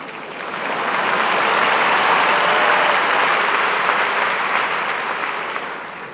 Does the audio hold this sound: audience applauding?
yes